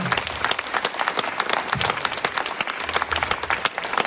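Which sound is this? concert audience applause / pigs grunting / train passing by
concert audience applause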